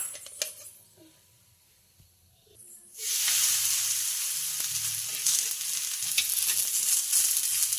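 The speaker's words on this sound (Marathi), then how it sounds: "खुसखुशीत धपाटं असं भाजून घ्यायचं आहे" Dahi dhapate flatbread roasting on a hot pan gives a steady broadband sizzle that starts abruptly after a few quiet seconds and then carries on evenly and close up.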